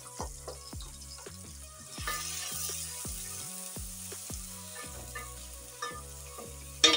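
Onions fry in a pan for Kenyan githeri, a steady close sizzle broken by a run of sharp metallic clinks and scrapes from stirring.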